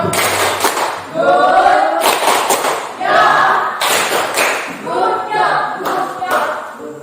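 Schoolchildren in a classroom clap their hands together in a group, a few sharp claps landing among rhythmic chanting voices at close range.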